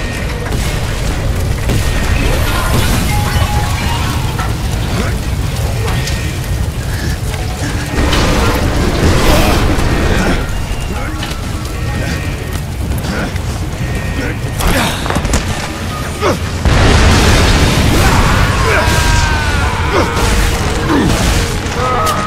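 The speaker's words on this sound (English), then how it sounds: "I predict an imminent detonation within the gravity core generators." Gravity core generators explode in the video game Bulletstorm, with loud, dense booms, mechanical clanking and crashing rumbling continuously throughout, and game voices talking over the din.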